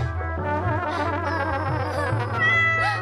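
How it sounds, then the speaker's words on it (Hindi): A cat cries with drawn-out, wavering meows, fairly close and loud, continuing throughout with a steady low hum underneath. "अरे बिल्ली, तू क्यों रो रही है?"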